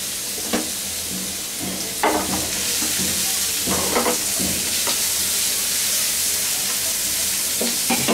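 Onions and garlic, including local desi garlic, sizzle steadily in a pan, broken by several sharp scraping stirs of a spatula, close and continuous with no voices.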